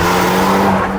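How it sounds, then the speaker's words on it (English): A Hyundai i30 Sedan N (Elantra N) turbocharged engine accelerating, a loud, sustained, close engine note with a steady tonal drone lasting about a second. "It's quite a good sounding engine as well."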